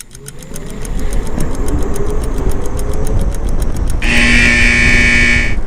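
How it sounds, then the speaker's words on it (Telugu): Ola S1 Air electric scooter pulling away at full throttle, a steady motor whine rising over loud road and wind noise, with a strong high-pitched tonal whir appearing near the end as speed builds. "సో ఫుల్ థ్రాటిల్ ఇస్తున్నాను ఇన్ 3, 2, 1."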